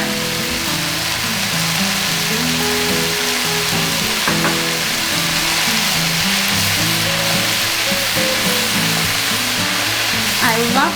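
Minced garlic and vegetables sizzling in butter or oil in a pan, a loud steady frying hiss close up with occasional crackles and stirring.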